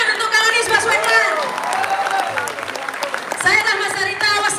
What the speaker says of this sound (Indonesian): sekali lagi tepuk tangan untuk Kang Anies Baswedan